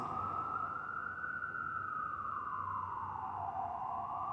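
A loud siren wails continuously, its pitch sliding slowly down and back up in a long sweep with steady background rumble and no voices.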